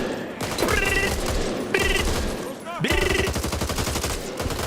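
Rapid gunfire bursts from the zombie shooter Back 4 Blood, several volleys of loud, dense shots in quick succession filling the whole stretch with little pause.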